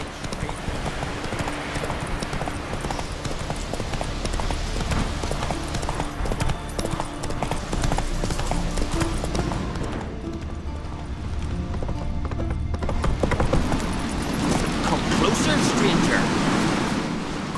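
The horse Roach galloping during a race up a mountain in The Witcher 3: Wild Hunt, loud steady hoofbeats over wind and surf-like ambience, with someone talking at times.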